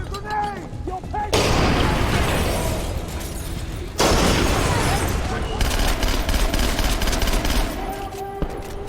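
Grenade explosion and sustained gunfire in a video game: a brief voice at the start gives way to a loud, dense burst of rapid shots, then a second blast at about four seconds with continuing heavy fire.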